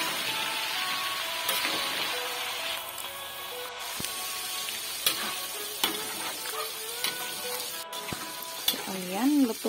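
Seasoned pork fat sizzling in a kawali, a loud, steady hiss with crackles and stirring clicks, close up, and a brief voice near the end.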